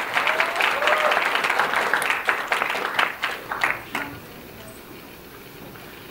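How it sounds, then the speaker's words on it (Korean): A concert audience at a youth showcase of hip-hop, dance and vocal acts claps loudly and densely for about four seconds, then the applause thins and fades into quiet room tone. "두 분께 박수 한번 크게 주세요."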